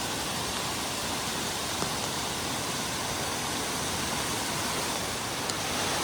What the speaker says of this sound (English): Came around the corner and here's some more of that waterfall.